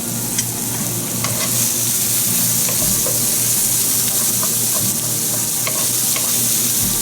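Onions and garlic sizzle steadily in a pan over medium heat, cooking for a Greek stuffed squid dish, with scattered stirring clicks and scrapes over a constant close frying hiss.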